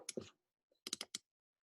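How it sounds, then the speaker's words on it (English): Mouse clicks on a computer while adjusting gates in FlowJo compensation software: a quick cluster of clicks, a pause, then a second tighter burst of about four clicks, close and crisp in a quiet room. "Double clicking."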